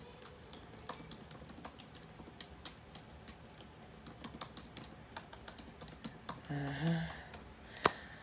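Light, quick tapping on a computer keyboard runs through the whole stretch, soft and close, with a brief louder sound near the end.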